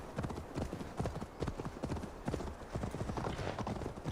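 A horse's hooves clip-clop in a brisk, steady rhythm in the video game Assassin's Creed Valhalla, moderately loud over a dense ambient background.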